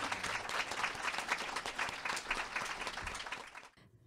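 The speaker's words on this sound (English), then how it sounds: "Please give our panelists a warm round of applause." Live audience applause for the panelists at the end of a Writers' League of Texas podcast episode: dense, steady clapping from a crowd that holds for about three and a half seconds and then cuts off abruptly.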